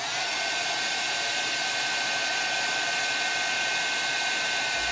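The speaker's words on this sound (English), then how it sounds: "So I'm going to go ahead and heat set this again." Heat gun blowing hot air to heat-set embossing powder on a handmade card, a steady close, loud, airy whine that holds constant throughout with no talking.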